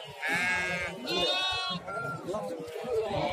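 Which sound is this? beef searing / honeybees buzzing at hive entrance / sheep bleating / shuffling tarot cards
sheep bleating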